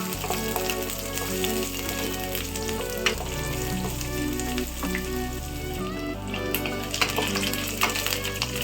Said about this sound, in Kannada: ಈರುಳ್ಳಿ ಕಟ್ ಮಾಡಿ ಇಟ್ಕೊಂಡಿದ್ದೀನಿ ಸ್ವಲ್ಪ ಗೋಲ್ಡನ್ ಬ್ರೌನ್ ಆಗೋವರೆಗೂ ಫ್ರೈ ಮಾಡ್ಕೊಳ್ಳೋಣ